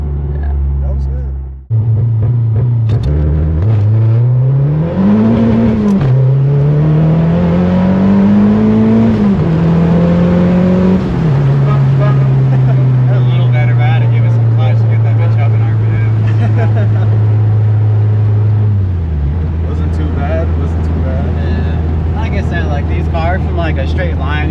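A 2013 Mazdaspeed 3, a front-wheel-drive hatch, revs hard and launches, its engine note climbing in loud sweeping pitch rises before settling into a steady drone that drops away near the end, with voices talking over it.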